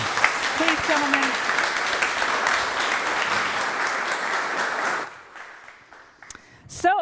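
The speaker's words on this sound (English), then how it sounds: "A warm round of applause." Warm round of applause from a business conference audience for two speakers, a dense steady clapping that fills the room for about five seconds, then thins out and stops, with a brief voice at the very end.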